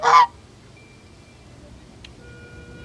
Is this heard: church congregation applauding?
no